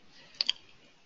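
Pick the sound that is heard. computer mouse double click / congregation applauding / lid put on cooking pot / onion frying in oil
computer mouse double click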